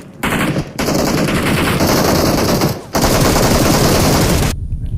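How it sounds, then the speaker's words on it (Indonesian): Automatic gunfire in the mobile battle royale game PUBG Mobile, dense and loud machine-gun bursts split by short pauses, with no talking over them. "Gue tembak lo aja, Yu"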